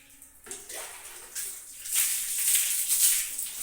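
Water pours from a mug onto a room floor to wash it, starting quiet and then turning into a louder splashing rush in the second half.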